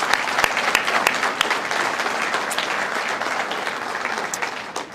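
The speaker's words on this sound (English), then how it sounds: "So let's give them another round of applause." A dinner audience applauds in a room, a dense, steady patter of many hands clapping that carries on for several seconds with a few sharper claps standing out.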